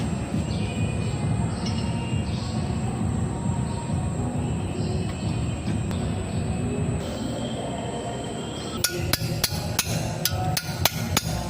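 Hammer strikes on a chisel, about ten sharp metallic blows in the last few seconds, coming after a long stretch of steady rumbling background noise.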